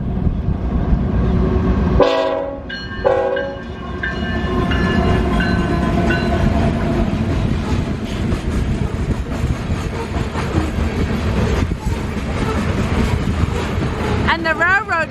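A train rumbles past in Lohman, Montana, with a loud, continuous roar and a short horn blast near the start, while people talk over the noise.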